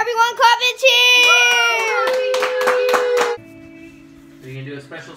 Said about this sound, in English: Clap and cheer!